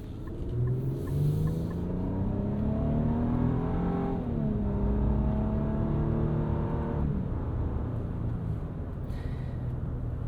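A 2025 Infiniti QX80 Autograph SUV with a 9-speed automatic accelerates hard, its pitch climbing steadily, dropping briefly at a gear shift, then rising again, loud and continuous from inside the cabin.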